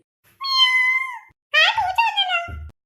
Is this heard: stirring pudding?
no